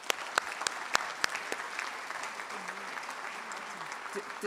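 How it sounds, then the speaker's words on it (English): An audience at a college inaugural celebration claps in a steady wash of applause with a few louder individual claps standing out, lasting a few seconds in a large room. "That's worth clapping."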